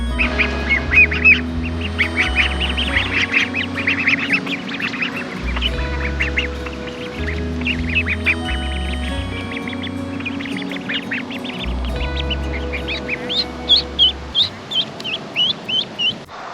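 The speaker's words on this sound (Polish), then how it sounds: "jak widzicie, kaczki, one, one żyją swoim życiem" Ducks quack repeatedly beside a pond, a busy chorus of calls with a faster run of quacks near the end, over a steady low rumble in the background.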